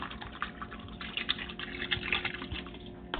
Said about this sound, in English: We're going to put some lemon juice in here.